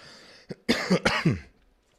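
A short burst of harsh coughs, three or four in quick succession, close and loud, then silence.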